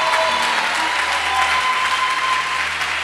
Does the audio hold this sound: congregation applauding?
yes